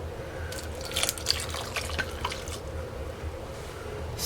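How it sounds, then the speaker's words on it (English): Two cups of cold water poured into salted chopped cucumbers for dill pickle relish, a close splashing gush for about two seconds that settles into a soft trickle and quiet drips. "And then I'm going to add 2 cups of cold water."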